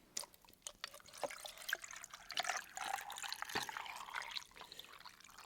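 Bottled water pours and splashes steadily into a container, a trickling, gurgling stream with scattered drips, fairly quiet and close with no talk.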